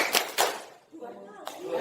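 Two sharp, close handclaps from a group of teachers ring out in quick succession, followed by a voice singing a clapping song.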